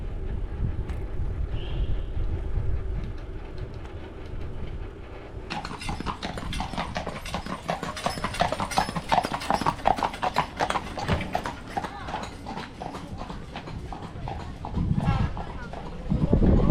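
Horse hooves clip-clop on a car-free highway, a steady rhythmic clatter close by that grows louder and more distinct partway through, with talk over the top.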